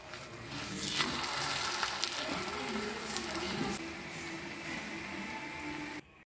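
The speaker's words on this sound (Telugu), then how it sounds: "ఇది కాస్త ఆయిల్ వేసుకొని మళ్ళీ అలానే ఫ్రై చేసుకోవాలి 2 పక్కల" Dosa frying in oil on a hot pan for a quick healthy breakfast, a steady close sizzle with faint crackle that holds for several seconds, then cuts off abruptly at the end.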